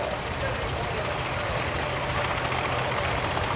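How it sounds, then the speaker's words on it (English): A 1971 856 diesel tractor with a naturally aspirated 407 engine runs steadily at a parade, a continuous low rumbling drone heard up close and alone. "Tom Timmons, 856 from 1971. 407 engine that's naturally breathing, no turbo on it, but it's a big husky tractor."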